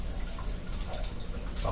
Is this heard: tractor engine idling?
no